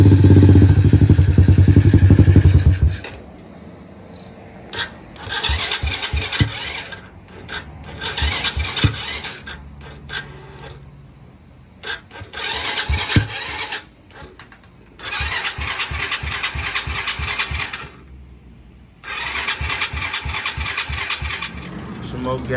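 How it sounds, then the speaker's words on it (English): A 110cc four-wheeler ATV engine cranks after a loud low rumble at the start, then turns over in repeated bursts of rapid clattering, sputtering cycles separated by short pauses, close and loud, with a voice heard between attempts. "I'll try to crank it in a second. We might get it going."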